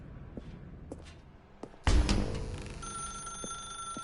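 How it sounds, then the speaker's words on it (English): Telephone ringing in The Stanley Parable video game, a sudden loud bell-like burst that rings out and decays into a sustained tone, alone without talk. "Now pick up the phone."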